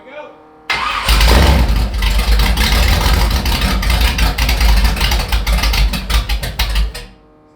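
A supercar V12 engine swapped into an 1980s hot rod fires up and runs loud and close, a dense, rough, throbbing roar that holds steady for several seconds before cutting off abruptly.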